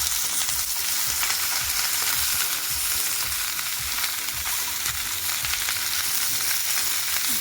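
Okra (bhindi) fries uncovered in a pan over low heat with a steady close sizzle. Soft, rhythmic stirring scrapes run through it, and nobody talks.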